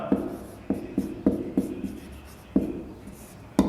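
Chalk taps and scrapes against a classroom board as names are written up during a Hindi literature lesson, a series of short, sharp strokes with uneven pauses between them, close and fairly soft.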